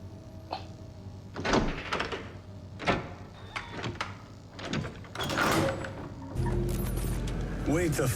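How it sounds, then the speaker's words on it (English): A character in a film scene knocks on a door, giving a handful of sharp, irregular raps mixed with other scene sounds and a low rumble toward the end. "he barely makes it and knocks on the door."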